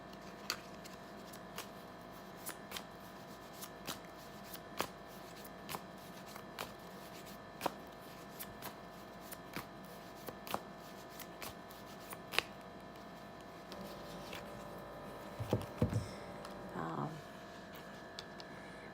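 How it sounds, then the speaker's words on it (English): Tarot cards are shuffled close by in a quiet room, giving soft, repeated riffling clicks at an uneven rhythm, with a brief louder handling rustle near the end. "I'm feeling like I need to draw one more card."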